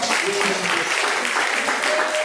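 A church congregation claps together in a steady, dense burst of applause that fills the whole moment, loud and continuous.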